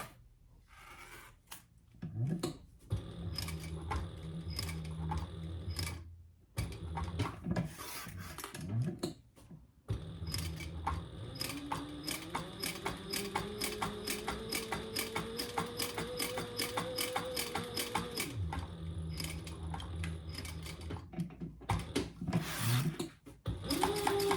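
A home sewing machine stitching over an earlier row of stitches on a tag-along sewing project runs in a steady, close mechanical whir with rapid needle ticking, stopping and restarting in short pauses before a long continuous run.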